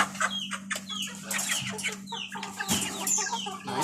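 Backyard chickens cluck steadily and closely while pecking at freshly given homemade feed, a busy overlapping chorus of short clucks with a constant low hum underneath.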